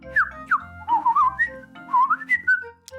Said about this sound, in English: Now flap your arms like a bird and whistle.